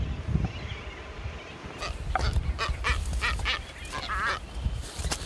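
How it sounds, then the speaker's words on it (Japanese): Many birds call loudly overhead on a deserted island, a dense chorus of honking, quacking cries layered over wind and surf noise, close and continuous with no talking. "すごい頭上鳥が待っております"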